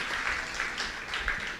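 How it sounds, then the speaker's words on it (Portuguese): A church audience applauds a brother who answered correctly during a sermon, giving a steady round of clapping from many hands that fills the room and holds at an even level throughout. "Vamos aplaudir o irmão que está do lado que acertou."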